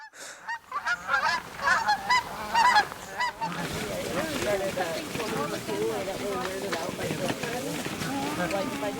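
A flock of Dusky Canada geese penned for banding honks repeatedly, loud and close, with overlapping calls and background rustling and splashing throughout.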